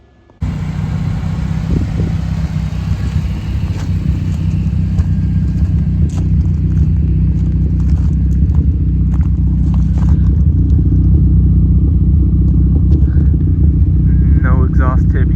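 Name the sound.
car engine running with newly welded exhaust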